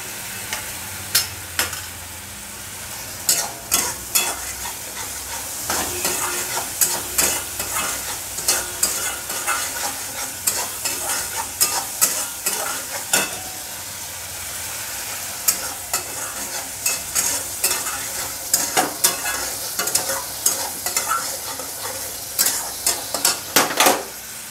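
Spice masala sautés in a pan with constant sizzling and frying, cut through by frequent sharp scraping strokes of a spatula. The strokes are close and loud and come in irregular bursts for a long stretch, with no talk.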